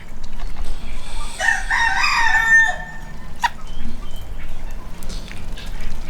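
A rooster at a muddy chicken coop lets out one loud, clear crow in the middle, over a constant rumbling background and a few faint clucks.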